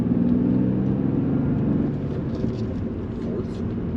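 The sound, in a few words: 1999 BMW M3 engine accelerating in third gear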